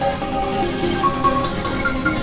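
Layered ambient melodies pass through Portal and Gross Beat AM effects, giving a dense, shimmering and slightly pulsing wash of tones that holds at a steady level, with no voice.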